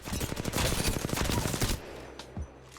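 Rapid automatic gunfire in Apex Legends, fired at training mannequins on the firing range: a fast, even string of shots for nearly two seconds, then a lone sharper shot after a pause.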